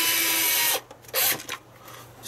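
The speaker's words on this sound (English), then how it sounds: "I'm using with a screwdriver" An electric screwdriver set to its lowest torque setting drives screws into a plastic Atari 7800 console case, giving two short whirring bursts, the first longer and the second briefer, close by with no talking.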